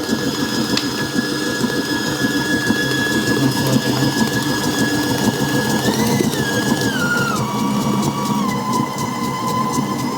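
A Hauswirt 5.3-quart, 11-speed digital stand mixer churns flour, baking soda and cream of tartar with a loud, steady mechanical whir and rattle. Its pitch slides down partway through as the speed changes.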